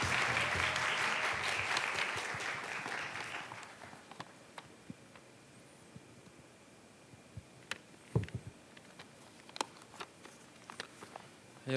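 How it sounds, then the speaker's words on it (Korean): Audience applause at a youth UCC contest award ceremony as the Busan MBC president is welcomed to the stage, a dense clapping burst for about four seconds that thins into scattered individual claps. "여러분 큰 박수로 무대로 모셔보겠습니다"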